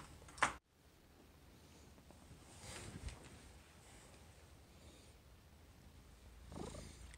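Domestic cat purring close to the microphone, a soft, low, continuous rumble lasting several seconds, with a brief bump near the start and faint rustling.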